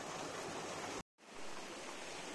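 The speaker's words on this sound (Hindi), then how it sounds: "सिर्फ पानी की आवाज़ आ रही है।" Steady rushing of stream water near a temple in the hills of Jammu, a soft broadband flow that cuts out abruptly for a moment before resuming at the same even level.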